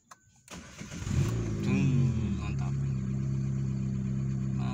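A Peugeot 206 car engine cranks on the starter, fires up and revs briefly before settling into a steady idle, close and loud, after a word is spoken just before the start.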